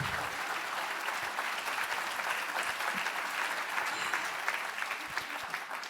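An audience at a conference applauds with sustained, dense clapping that holds steady for several seconds before starting to thin out.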